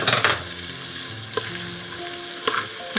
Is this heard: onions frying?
yes